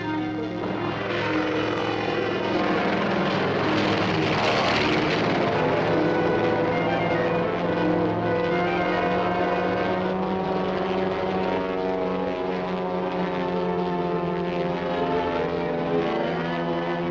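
A propeller airplane drones steadily overhead in an old serial film, a loud continuous engine hum with a strong buzzing tone that swells slightly early on and holds throughout.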